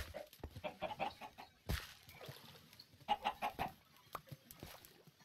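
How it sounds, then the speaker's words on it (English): Minecraft chickens clucking, two short bursts of quick clucks, the first around one second in and the second near three seconds, with scattered soft game noises and a sharp thump between. "Alright, so we got one more chicken."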